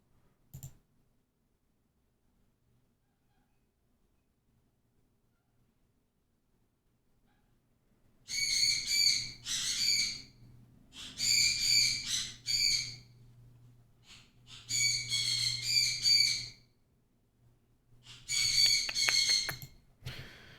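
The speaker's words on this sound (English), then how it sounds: "That's birds." Birds calling outdoors in several loud bursts of repeated squawking, hooting notes, separated by pauses and following a long stretch of near silence.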